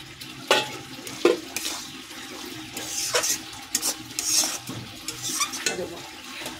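Bhola fish curry with potato and tomato being stir-fried in a pan, a fairly loud close sizzle with repeated spoon scrapes and knocks in an irregular rhythm, no talking.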